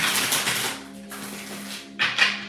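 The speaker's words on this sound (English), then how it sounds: "shuffle all these cards so they come out together" A large deck of cards is shuffled up close, giving dense papery riffling bursts that fade briefly and then return as a second sharp flurry.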